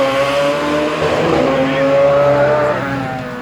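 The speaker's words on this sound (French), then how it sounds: "Daniel Coquet, désormais aux commandes d'une monoplace Status à moteur de moto en position transversale." A Status single-seater race car powered by a transverse motorbike engine with chain drive at a hillclimb start, its high engine note holding steady and loud, rising slightly before fading, with a faint voice underneath.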